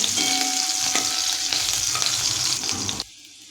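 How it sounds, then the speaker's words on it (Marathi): Green chillies sizzle and fry in a pan, a loud steady crackle with stirring scrapes throughout, cutting off abruptly near the end. "आता हिरवी मिरची आपल्याला चांगली परतून घ्यायची आहे"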